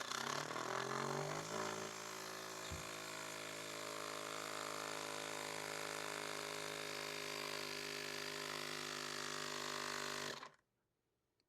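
A Ventus Pro electric tire pump inflating a tire hums and buzzes steadily at close range with a constant motor drone, then stops abruptly, leaving silence; no talk.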